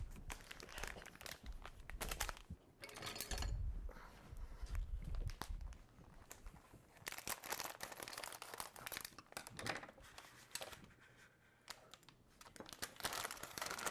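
Crinkling and rustling of packets being opened with scissors, a few sharp snips and handling noises, close up, no talking.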